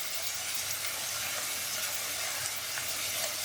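Onions frying in hot oil for methi pulao, a steady, even sizzle holding at moderate level with no pauses, close to the pan.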